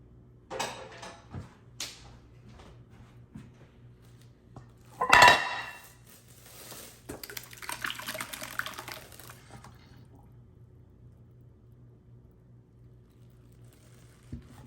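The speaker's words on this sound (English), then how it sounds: "I'm just gonna pour it all in this strainer and I'll strain it this way." Homemade brandy poured into a strainer, with a sharp clatter of utensils and containers followed by a few seconds of splashing liquid, then quiet, close and fairly soft overall.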